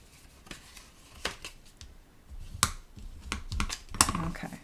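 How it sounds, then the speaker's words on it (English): Folded cardstock for a layered leaves square column card being creased with a bone folder, a close series of crisp scraping swipes and sharp clicks spread irregularly, with no talk. "You give it a good crease with the bone folder."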